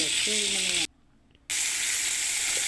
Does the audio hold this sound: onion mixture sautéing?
yes